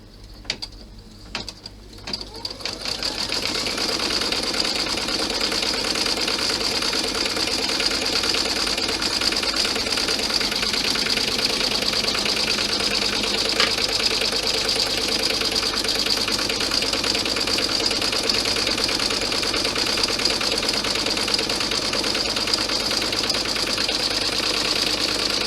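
An embroidery machine stitching a pocket placement line for a cloth clutch, a steady close mechanical whir with fast rhythmic needle clatter running continuously after a few brief starting clicks.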